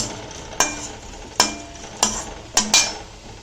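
Lentils and fenugreek dry-roasting in a pan, giving a steady faint sizzle under five sharp scraping stirs of a utensil against the metal, close and without talk.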